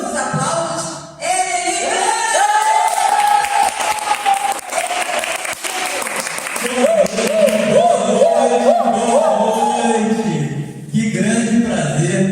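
Loud, sustained audience applause fills a Tuesday event hall, with a brief dip near the start and another near the end, the clapping layered with crowd noise and a musical swell throughout.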